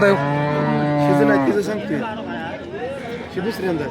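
A cow at the Sangola cattle market gives a long, loud, close moo that fades into busy crowd chatter and people talking nearby.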